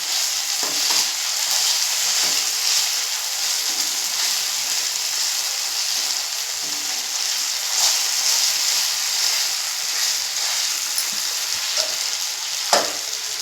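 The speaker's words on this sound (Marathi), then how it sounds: "जरा असं चमच्याने दाबून घेऊ, म्हणजे ग्रेव्ही छान होते याची." Softened tomatoes frying in a pan for egg masala, pressed down with a spoon: a constant close sizzle with scattered scraping and tapping of the spoon, no talk.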